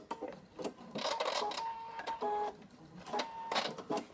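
A domestic sewing machine topstitches fabric in several short bursts of rapid mechanical stitching, close and fairly loud, with brief pauses between runs and no talking.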